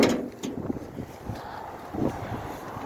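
A Kubota ZB1600 4WD Japanese mini tractor engine chugs at a steady idle, low and uneven, with some wind buffeting the microphone.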